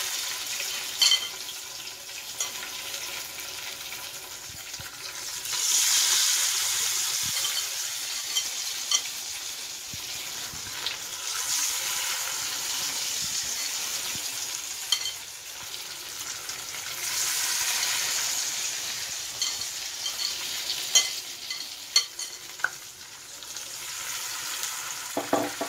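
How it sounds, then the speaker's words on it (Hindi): Paneer fries in a pan with a steady, close sizzle that swells and eases in waves, broken by occasional clicks and scrapes of stirring, with no talking. "इस तरह करने से पनीर खुलता नहीं है और अच्छे से तल जाता है।"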